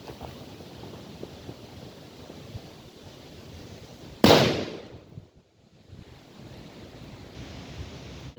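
Killer Bull Dog 2-gram firecracker banger bursting outdoors: a single sharp, loud crack over steady wind noise, followed by a brief dip and the windy background returning.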